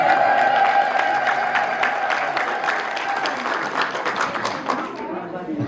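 A church congregation applauds steadily with scattered ululation, a dense patter of clapping with a high trilling voice riding over it early on, moderately loud and fairly close, fading slightly toward the end.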